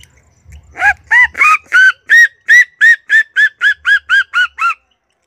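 Red-legged seriemas calling in duet, a loud series of about a dozen sharp, yelping two-part cries repeated at a steady rhythm, close by and with no talk over them.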